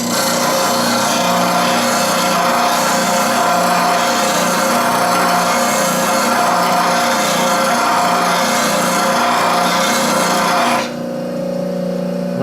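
A grinding wheel dresses the edge of a steel scraper, giving a steady, loud abrasive whir with a constant rubbing hiss, running alone for about eleven seconds before cutting off abruptly.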